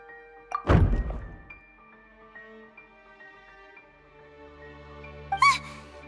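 In Genshin Impact, a solid thunk of a decoration knocked over lands early over soft sustained game music, followed later by a second, smaller clatter.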